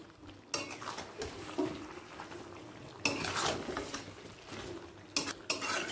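Chicken and sour yogurt are stirred together in a pan over a high flame, with repeated close scraping bursts of a spoon against metal over a soft sizzle.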